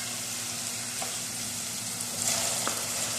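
Finely chopped onion sizzles in oil with fried ginger-garlic paste for green chicken karahi, a steady frying hiss with a few light stirring clinks and a louder burst near the end.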